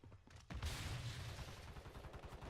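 Dense, rumbling gunfire from a shooter video game: a muffled stretch, then a sudden loud burst at about half a second that continues as overlapping shots and booms, with no talk over it.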